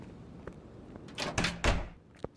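A door opens in Car Mechanic Simulator 2021, a short series of close mechanical clunks and a swinging thud over about a second, ending with a small click.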